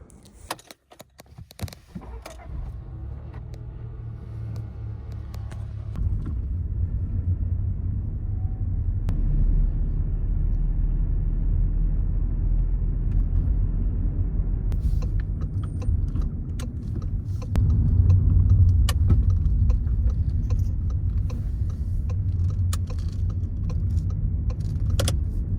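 A car drives with a steady low engine rumble after a few opening clicks and knocks, the hum continuing evenly and rising slightly before the car comes to rest and is parked.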